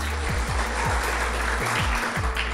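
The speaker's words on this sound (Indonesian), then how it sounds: "Mohon aplaus untuk beliau." Audience clapping for the emcee at a business seminar, a steady patter of hands from a moderate crowd, fairly distant and even throughout.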